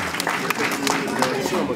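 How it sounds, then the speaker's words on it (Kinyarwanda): Crowd applause at a Rwandan wedding betrothal and dowry ceremony, dense steady clapping that runs throughout beneath a speaking voice. "amashyi menshi cyane rwose"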